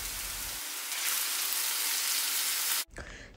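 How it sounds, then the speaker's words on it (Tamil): Minced mutton keema sizzles in hot oil in a pan, a loud steady crackling hiss that grows fuller, then cuts off abruptly near the end, leaving faint residual sizzle. "இந்த ஆயிலே மட்டன் கீமா வந்துட்டு கொஞ்ச நேரத்துக்கு நல்லா ஃப்ரை ஆகட்டும்"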